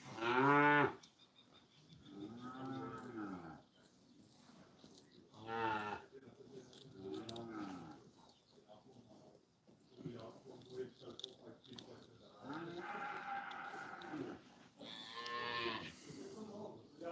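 Cows and young calves on a farm moo repeatedly, several long drawn-out lows of varying pitch, some loud and near, others fainter, with quiet gaps and faint insect chirping between them.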